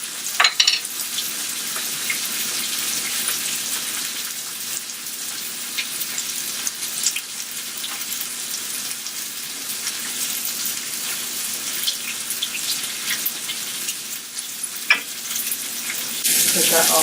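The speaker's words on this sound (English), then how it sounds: "Our spinach is cooked down, so I'm going to go ahead and add some more, stir this up." Spinach frying and being stirred in hot bacon fat in a pan, continuous close sizzling with occasional scrapes of a utensil, steady and fairly loud, no talking.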